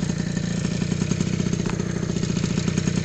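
A GP1 70 Racing scooter with a 70cc engine, stock 17.5 carburettor, enlarged jet and small exhaust runs close and loud, a steady rapid rattling idle that keeps an even throb throughout.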